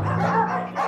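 Cartoon dogs from the children's animated show Bubble Guppies bark and yip in quick, excited bursts, close and loud, overlapping into a busy chorus.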